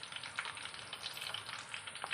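Sliced bitter gourd frying in hot oil for a pickle, a steady soft sizzle with faint crackles and no speech.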